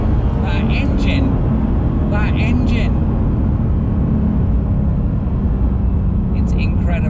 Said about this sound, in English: Oh, that engine,